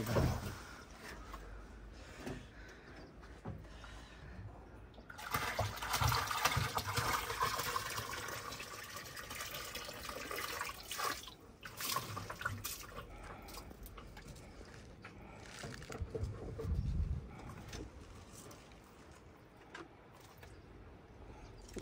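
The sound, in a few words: water being poured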